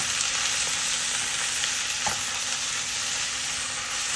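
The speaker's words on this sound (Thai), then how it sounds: "หลังจากนั้นเราก็จะใส่พริกแกงลงไปลวนนะคะ" Thai red curry paste is stir-fried in a pan with a little water instead of oil for a home-style beef dish, producing a loud, steady, continuous sizzle with a faint stirring scrape midway.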